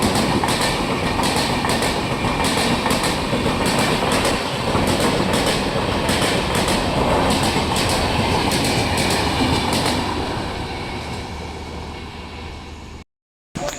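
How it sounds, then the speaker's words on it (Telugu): The Bidar–Machilipatnam Bidar Superfast Express rushes past at Charlapalli in a loud, steady roar with rhythmic clickety-clack of wheels over rail joints, holding for over ten seconds before cutting off abruptly. "Bidar super fast express crossing Cherlapalli."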